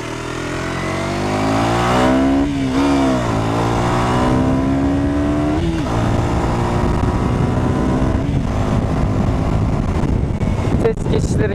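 KTM 125 Duke motorcycle engine revving up steadily on a street ride, its rising and falling harmonic drone loud and close throughout, with brief gear-change dips.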